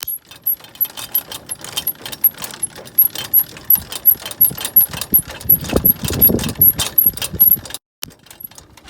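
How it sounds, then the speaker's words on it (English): Hand winder lowering the corner legs of a camper trailer during setup, giving a steady, close run of rapid mechanical clicks and ratcheting with a brief pause near the end. "and then just wind with the winder. Just wind them down."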